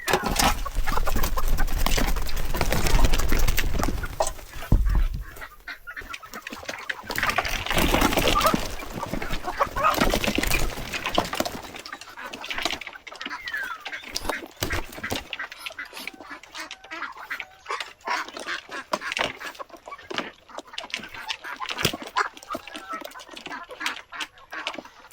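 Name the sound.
native, Muscovy and Pekin ducks and chickens clamoring at feeding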